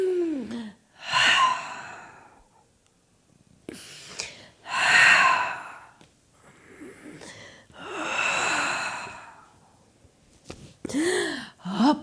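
Deep breaths during a Pilates mat core-rolling exercise: several loud, close exhales and sighing gasps arrive in uneven bursts, with quiet gaps between them.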